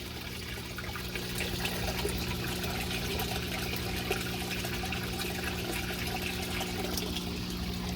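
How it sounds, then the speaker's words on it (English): Water draining out of an aquaponics tub as the pump starts drawing air, a steady close gurgling, rushing and trickling with a low hum underneath, no talking. "you can hear it starting to grab air, starting to slow down a little bit"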